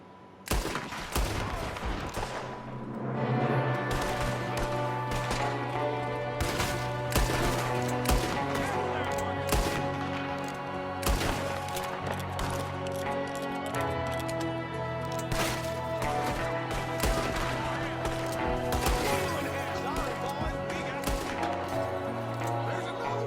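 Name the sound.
gunfire in video game Red Dead Redemption 2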